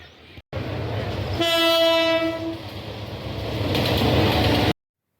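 A locomotive shunting at a railway station sounds one long, loud, steady horn blast over a continuous heavy rumble of engine and rolling stock, which swells again toward the end before cutting off.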